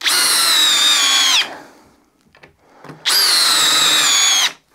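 A Bosch multi-chuck drill driver runs under load while driving large screws, giving two loud, sustained motor whines of about a second and a half each, the pitch sagging slightly as the fasteners bite, separated by a quiet gap.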